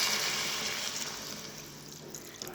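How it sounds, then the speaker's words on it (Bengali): Water poured into a pan of cauliflower and potatoes as they cook into a light curry, a steady rushing pour that starts strong and gradually eases off. "এবার দিয়ে দেবো জল।"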